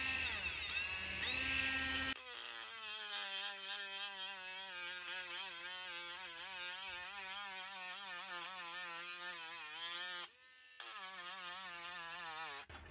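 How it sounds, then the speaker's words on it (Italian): A rechargeable 3.7V Ginour mini pen sander, a Dremel-style engraving tool, buffs a metal wrench after rust removal, giving a loud steady high-pitched whine with wavering pitch that drops briefly near the end before resuming, with no talk. "Dopo aver rimosso quindi la ruggine da questa chiave, proviamo a pulire un pochettino questo metallo."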